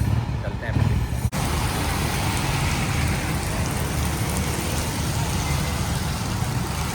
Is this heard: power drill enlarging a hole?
no